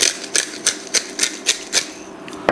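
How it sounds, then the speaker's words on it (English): A pepper mill grinds black pepper over ramp pesto with a run of eight or nine crisp, evenly spaced cracking crunches, close and fairly loud, with no talking. "I'm gonna add black pepper."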